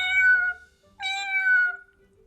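A cat meow sound effect plays twice in a row, each meow clear and tonal with a falling pitch, loud and alone against silence.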